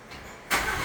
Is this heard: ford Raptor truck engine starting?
yes